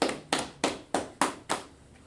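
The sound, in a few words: audience clapping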